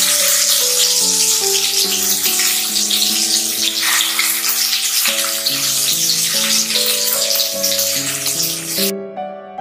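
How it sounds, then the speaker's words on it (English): Mustard seeds crackle and sizzle steadily in hot oil, a dense bright hiss that runs throughout under louder melodic background music. "Adding oil, just mustard seed."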